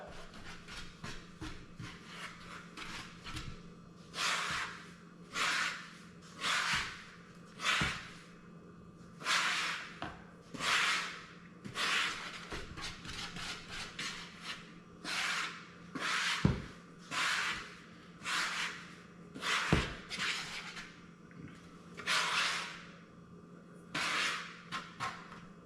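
Kosher salt and fennel seed are whisked through dry ingredients in a bowl for sourdough focaccia, a series of quick scratchy rasping strokes in irregular rhythm over a faint low hum, close and moderately loud.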